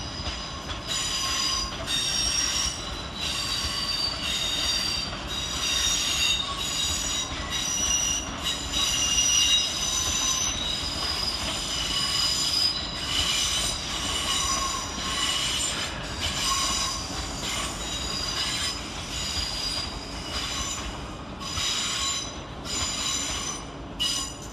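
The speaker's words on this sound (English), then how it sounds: "Arriving next to terminate with a Southwestern Railway service off Alton is 450-049" Southwestern Railway class 450 units 450-049 and 450-034, arriving from Alton, pull into London Waterloo terminus with a loud, close, sustained high wheel squeal over a steady rolling rumble. No voices.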